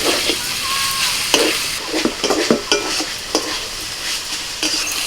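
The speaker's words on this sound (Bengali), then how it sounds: "দুই রকমের ক্যাপসিকাম আমি দিয়ে দিয়েছি ভালো করে একটু কষিয়ে নেব চিকেনের সাথে" Two kinds of capsicum stir-fried with chicken in a pan for a Kabul roll, loud continuous sizzling broken by frequent clattering spatula strokes and scrapes, close up, with no voices.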